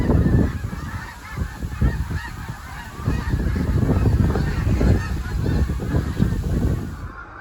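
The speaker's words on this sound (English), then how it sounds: "the geese have returned, like a million angels descending from the heavens to gift these placid waters with torrent of wings and electric energy" A large flock of geese honks in a dense, continuous chorus over a lake at Malone Rec Park, many birds calling at once, loud and near, with a rushing undertone of wings.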